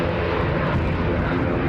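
An airliner bound for Riga moves at a windy Edinburgh Airport, its engines giving a steady, dense roar that stays constant and fairly loud.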